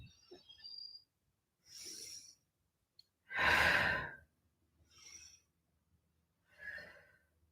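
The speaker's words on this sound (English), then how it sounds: "Inhale, lift. Exhale, lower." Slow, deliberate yoga breathing: several soft inhales and exhales through the nose and mouth, spaced apart with quiet pauses, one breath much louder and fuller than the rest, heard up close.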